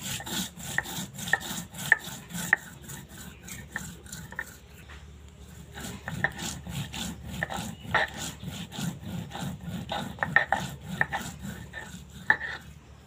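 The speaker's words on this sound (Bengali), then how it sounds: "জিরে কিন্তু বাটা হচ্ছে।" Cumin seeds ground with a little water on a shil-nora grinding stone, a rhythmic series of close scraping, knocking strokes repeated steadily throughout, with a short lull midway.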